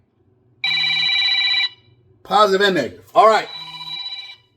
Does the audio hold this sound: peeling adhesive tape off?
no